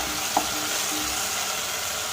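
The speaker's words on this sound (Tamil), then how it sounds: "அது வரைக்கும் நல்லா வதக்கிப்போம் எண்ணெயிலேயே" Quiet, steady sizzle of spices sautéing in oil in a pan, with a single faint clink early on and no voices.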